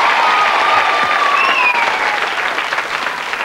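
Studio audience at a game show applauding a finalist as she is introduced: a loud, close burst of clapping with a few cheers and whistles that gradually thins out.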